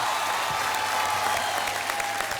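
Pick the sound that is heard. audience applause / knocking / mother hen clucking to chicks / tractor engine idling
audience applause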